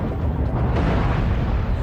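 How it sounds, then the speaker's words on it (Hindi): Volcano erupting as an anime sound effect, a dense continuous low rumbling roar, loud and steady throughout with no voices. "वोल्केनो का विस्फोट हो रहा है"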